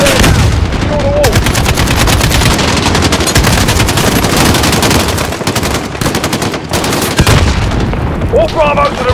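Sustained, dense gunfire with rapid automatic bursts and heavy booms from the video game Modern Warfare on PC, loud and continuous throughout, with shouted voices and brief radio-like chatter over the shooting.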